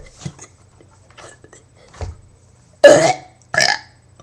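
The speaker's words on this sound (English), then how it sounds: "One last burp." A person burps several times: a few soft, short belches early on, then two loud, close burps near the end, alone without talk.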